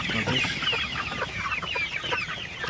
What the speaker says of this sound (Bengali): একদম মুরগিগুলো দেখেন আপনারা পানির পাত্রের পাশে একদম জড়ো হয়ে গেছে